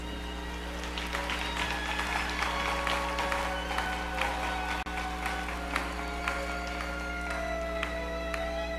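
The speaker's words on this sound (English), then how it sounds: "I invite a round of applause for the candidates for master's degrees" Sustained applause from a commencement audience for master's degree candidates, many hands clapping in a large hall over a steady electrical hum, even and moderately loud for nearly nine seconds.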